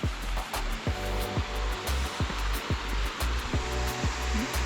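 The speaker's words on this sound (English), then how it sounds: "So there's another little waterfall" Small rainforest waterfall at Kondilla Falls gives a steady, broad rush of falling water, fairly close and continuous, with a few low thumps and faint rhythmic tones running beneath it.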